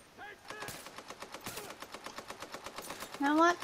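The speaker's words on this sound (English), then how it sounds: "I need to shoot too." Tom Clancy's The Division automatic gunfire, a fast even burst of close rifle shots rattling rhythmically for a few seconds, with a voice speaking over it near the end.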